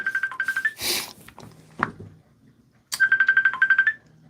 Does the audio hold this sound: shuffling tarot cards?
no